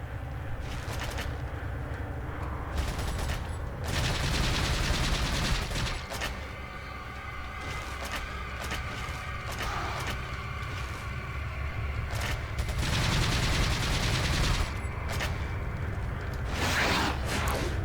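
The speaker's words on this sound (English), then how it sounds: "shoot him when you can, and run." Gunfire in Resident Evil 4 on Hardcore difficulty, repeated bursts of shots over a dense game soundscape with mechanical clatter and whooshes, loud and sustained throughout.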